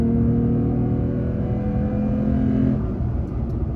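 A Toyota Tacoma with a new exhaust accelerates hard at full throttle on the freeway, its engine droning loud and steady from inside the cab before the pitch shifts near the end.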